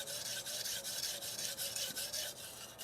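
A Shirogami steel nakiri is drawn along a Japanese natural sharpening stone, giving a steady gritty rasp of repeated near strokes in an even rhythm that fades slightly at the end.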